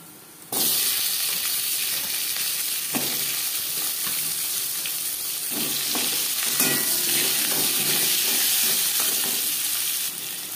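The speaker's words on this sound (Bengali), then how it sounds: "দু-তিন মিনিট আলু ভেজে নেওয়ার পর" Potatoes dropped into hot oil with a bay leaf and whole cumin, bursting into a loud, dense sizzle that continues steadily up close, with occasional stirring scrapes and no speech.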